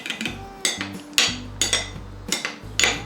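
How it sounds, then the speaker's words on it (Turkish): A spoon scrapes and clinks against a bowl while olive oil is stirred into a sea bean salad, giving a close series of uneven taps and knocks that recur every half second or so. "Böyle aşağıdan yukarıya karıştırıyoruz"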